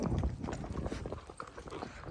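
A mare's hooves clip-clop in a quick, even rhythm on the way to a farm field, close and moderately loud, with a faint rumble underneath.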